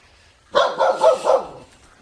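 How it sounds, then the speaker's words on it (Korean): A dog barks in a rural yard beside a vegetable garden near Miryang, South Korea, giving a burst of about four loud, close barks over roughly a second, with quiet before and after. "개가 좀 많이 짖네요."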